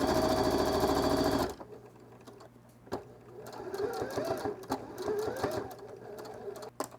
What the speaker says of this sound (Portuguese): eu vou colocar aqui, ó, cobrindo e vou costurar